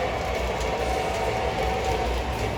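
A model Christmas train runs steadily along its track, a continuous close rumble and rolling clatter with no breaks.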